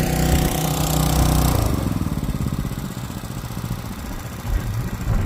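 A farm tractor with a CVT transmission running a chaser bin, its engine loud and close with a steady droning rumble and a rapid, throbbing pulse throughout.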